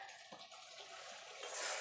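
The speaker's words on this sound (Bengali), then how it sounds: "এবার দিয়ে দেবো জল।" Water poured into cooked, oil-separated spicy masala for a boal fish curry, a short close splashing gush that grows into a steady hiss and bubble, with no talk.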